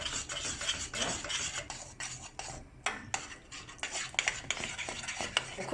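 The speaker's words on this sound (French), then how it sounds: "On continue de bien mélanger pour pas que la casserole elle prenne feu." A spoon stirs thickening ulundhu kali, a sweet Sri Lankan black gram porridge, in a saucepan, scraping and clinking steadily against the metal with soft bubbling underneath, no voices.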